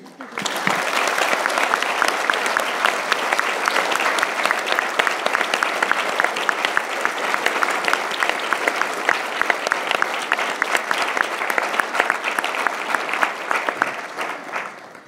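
An audience at the 2014 ICFA conference gives sustained, even applause welcoming the guest scholar Istvan Csicsery-Ronay Jr., a dense clapping crowd lasting about fifteen seconds.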